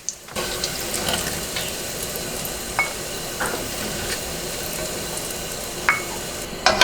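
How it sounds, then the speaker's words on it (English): Crisp, browned guanciale is lifted out of a pan of hot rendered fat, a steady sizzle and crackle filling the background with a few sharp clinks of a spoon against the pan. "So we're gonna scoop them out and then make sure you keep all the fat in the pan."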